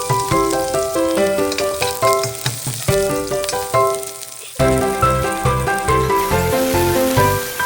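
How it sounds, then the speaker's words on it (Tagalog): Garlic and onion sauté in a pan for squid adobo, sizzling in rhythmic bursts under a bright musical backing track. "igisa natin sa bawang at sibuyas hanggang sa lumabas ang bango"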